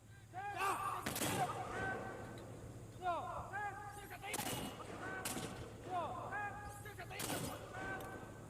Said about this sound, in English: they're doing mortar rounds here.